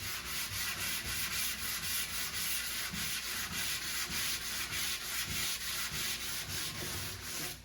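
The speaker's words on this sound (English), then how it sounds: "sanding with the grain" Sandpaper rubs back and forth across wood in a steady, rhythmic scratching, close up with no talking.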